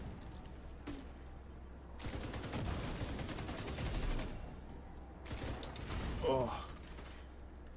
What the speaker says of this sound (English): Oh, you got artillery